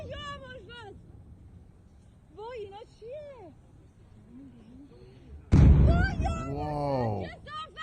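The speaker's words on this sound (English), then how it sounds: "Those are heavy explosions." Heavy explosion during a street protest in Iran, one loud boom midway through, with shouting voices before it and excited talk after it.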